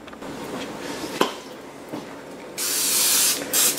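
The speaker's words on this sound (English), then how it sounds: "I'm gonna put a little spray oil" Cooking spray oil hisses out in two short, close bursts onto ground-lamb stuffed peppers before smoking, preceded by a few light clinks of kitchenware.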